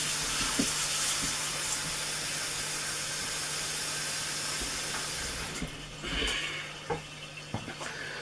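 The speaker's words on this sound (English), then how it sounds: "Like so, cover them with water" Tap water runs steadily into a large saucepan of potatoes in a home kitchen, a continuous hissing rush that thins out toward the end, with a few clinks of the pan.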